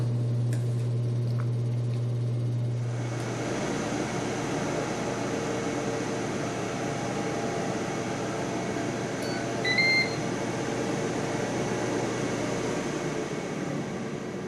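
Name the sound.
air fryer cooking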